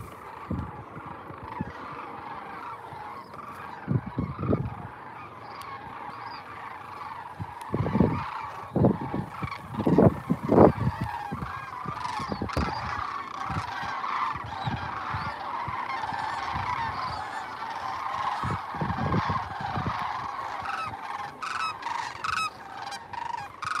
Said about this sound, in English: we've got a big flock of sandhill cranes that are going to be flying over us here in a second